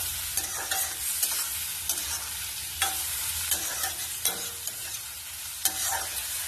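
Onions salted and stirred in a frying pan, giving a steady low sizzle with repeated scraping stir strokes at a regular pace, close by with no talking.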